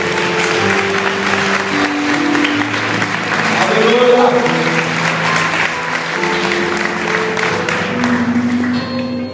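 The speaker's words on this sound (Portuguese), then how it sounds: "aplauda com força ao Senhor, aplauda com força" A church congregation at a Tuesday service claps loudly and steadily for the whole stretch, with a voice calling out over the applause and sustained musical tones underneath.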